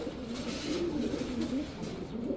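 An orange chila pigeon breeding pair coos in soft, repeated low calls, close and steady, with no talk over them.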